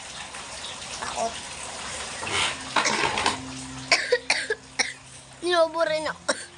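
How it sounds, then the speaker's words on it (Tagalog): A person coughs a few times at close range, with harsh bursts followed by a voice speaking, over a background of running water. "Inuubo rin ako."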